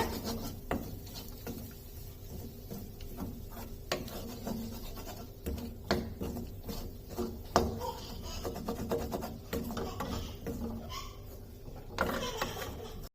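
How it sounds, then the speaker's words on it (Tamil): Chopped green chilies being sautéed in a pan for potato poori masala, heard as quiet, steady scraping and rubbing of a utensil against the pan with occasional louder knocks throughout. "இதையும் சேர்த்து நல்லா வதக்கிக்கோங்க."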